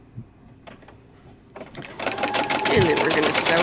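A sewing machine sews fabric for a nine patch quilt block; after quiet handling and a voice, the motor starts and runs in a fast, loud, close stitching whir to the end.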